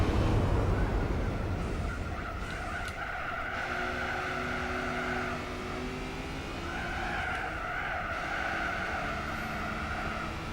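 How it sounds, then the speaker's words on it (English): A Peugeot 205 race car in Gran Turismo 4 runs through a corner, its engine a steady droning whine with faint tire scrub, continuous and moderately loud without talk. "Now run the 205 through the corner."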